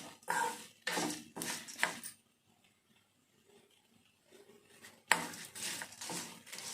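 Cloves and whole spices are dry roasted on a low flame, with bursts of dry rattling and scraping as they are tossed in the pan, a quiet pause, then more stirring.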